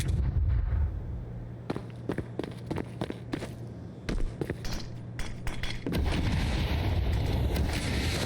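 Sharp bangs, impacts and footsteps from a Counter-Strike 2 match, a flashbang among them, with scattered close cracks and thuds, a loud burst at the start and a denser rumble near the end.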